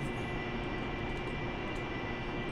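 AV-8B Harrier jet engine roaring at vertical takeoff power in the DCS flight simulator, a steady dense broadband rumble and whine that holds at constant loudness throughout with no talk.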